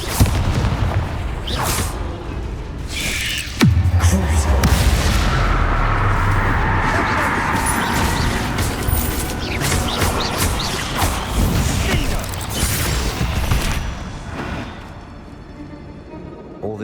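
Confringo and Bombarda blasts from the Hogwarts Legacy video game hit in a chain of loud booms and crashes amid continuous combat clatter, with a voice heard among them.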